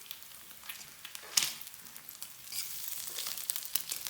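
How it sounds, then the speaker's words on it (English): Bacon and eggs fry in a pan with a soft, steady sizzle and a few sharper crackles and pops, close by and alone. "The bacon is rapidly overcooking, and the eggs are just about there and following suit."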